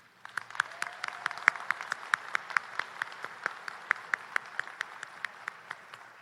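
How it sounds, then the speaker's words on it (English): Scattered applause rises at a graduate college commencement ceremony, a fairly sparse crowd clapping with distinct individual sharp claps standing out over a softer patter, moderately close and steady. "Let's recognize the exceptional work with a round of applause."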